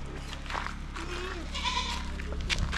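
Goats being tied up at a house in Kenya bleat a few times, short wavering calls over a low background hum, with people talking nearby.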